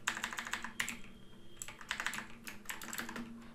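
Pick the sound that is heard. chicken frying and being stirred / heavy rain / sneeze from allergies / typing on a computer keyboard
typing on a computer keyboard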